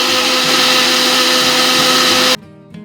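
A mixer grinder whirs loudly and steadily as it grinds roasted tomato and cashew into a paste, then cuts off abruptly, leaving a quiet, fading hum.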